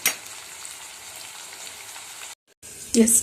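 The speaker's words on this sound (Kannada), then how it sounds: "ಒಗ್ಗರಣೆಯಲ್ಲಿ ಈರುಳ್ಳಿ ಮತ್ತು ಟೊಮೊಟೊನ 2 ನಿಮಿಷ ಬೇಯಲಿಕ್ಕೆ ಬಿಟ್ಟಿದ್ದೆ" Onion and tomato sizzle in a spice tempering in oil for dal fry, a constant close hiss that drops out briefly, then returns with a short louder burst at the end.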